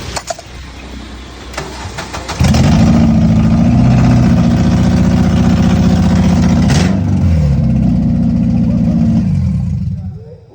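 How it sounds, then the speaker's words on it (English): A 2009 Honda Civic Si FA5 engine with an exhaust leak fires up and runs loud and rough at close range, a heavy steady roar after the start, then dies away at the end while a voice speaks. "I think you got an exhaust leak."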